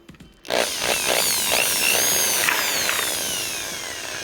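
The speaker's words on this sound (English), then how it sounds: "Alright, there's the drill." A power drill bores a hole in a garage during an Audi RS2 wheel swap, starting abruptly and then whining in a high, loud, continuous run with rising and falling pitch.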